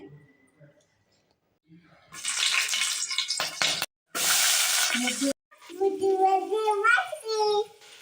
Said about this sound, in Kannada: ಸ್ವಲ್ಪ ಎಣ್ಣೆ ಹಾಕೊಳ್ತಾ ಇದ್ದೀನಿ